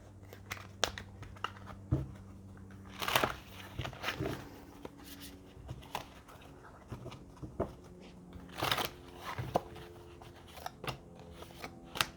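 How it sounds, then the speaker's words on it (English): A tarot deck with Hieronymus Bosch artwork is shuffled by hand, giving a series of close, soft riffling and crisp card-slapping bursts at irregular intervals over a quiet room. "So we'll do one more shuffle."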